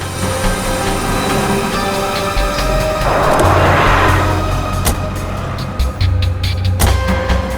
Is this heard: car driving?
yes